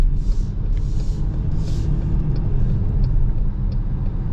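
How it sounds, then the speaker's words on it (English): A 2026 Chrysler Pacifica Limited AWD minivan with a V6 and nine-speed transmission accelerates from a light, heard from inside as a steady, low engine and road rumble with faint higher ticks. "Smooth V6 acceleration."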